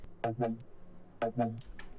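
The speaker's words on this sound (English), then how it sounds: "another mid-growl. This time I designed this one myself." Two short growling synthesizer mid-growl fill bursts with a harmonic, formant-like wobble, separated by a brief pause, loud and alone.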